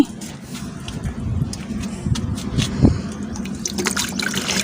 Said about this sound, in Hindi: अब इसके अंदर डालते हैं पानी।